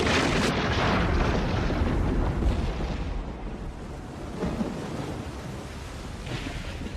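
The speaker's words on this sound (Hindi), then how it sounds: "जैसे ही ये प्लेन के पास पहुंचा वहां आ गया बर्फ का तूफान" Snowstorm sound effect in a telling of a plane crash: a loud, continuous roar of wind-driven noise, strongest at the start and easing slightly, with no voices.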